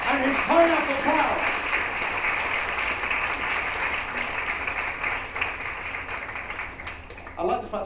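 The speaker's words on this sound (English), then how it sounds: "applause, please, for our finalist, Viktor Senderov and his pineapple cow" An audience claps for a science-communication competition finalist, a sustained wash of applause that slowly fades, with some voices and a brief burst near the end.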